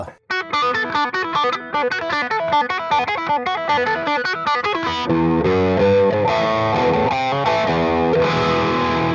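Electric guitar through a factory preset on a VP4 effects unit, starting with quick picked arpeggiated notes in a steady rhythm, then opening into sustained, effect-washed chords that ring on loudly with no one speaking.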